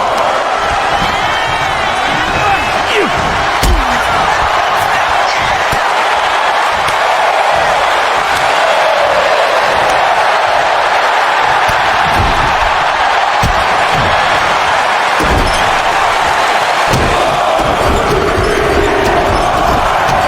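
Wrestling arena crowd in WWE 2K25 roaring and chanting in a steady dense wall of noise as Jey Uso stomps on Rey Mysterio's chest, with scattered thuds and impacts cutting through the continuous cheering.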